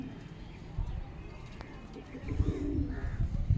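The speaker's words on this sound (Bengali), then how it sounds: "নর পায়রা দেখাচ্ছি, দেখুন" A male pigeon gives low, soft cooing close by in a loft, mixed with faint rustling and wing or foot shuffles, with a voice talking quietly in the background.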